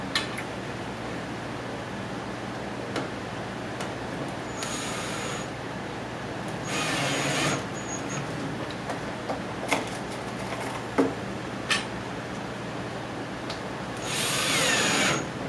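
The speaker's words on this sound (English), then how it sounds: "now put your screw in." Power drill driving screws into a hinge on a wooden beehive kit, heard as a few short whirring bursts near the mic, with light handling noise in between and no talk.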